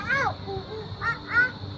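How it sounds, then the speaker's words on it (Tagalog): A large bird caws several times, harsh calls near and loud, a long first call followed by two shorter ones, with children's voices around it. "Ibon guys, oh. Ang laki ng ibon."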